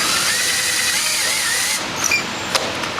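A power driver sinks a self-cutting screw into an aluminum insert on a porch rail, a steady whirring drone that cuts off partway through, followed by a few faint clicks and taps.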